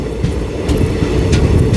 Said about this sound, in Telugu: మాచర్ల విజయవాడ ప్యాసింజరా, చాలా ఫాస్ట్గా వస్తుంది బండి.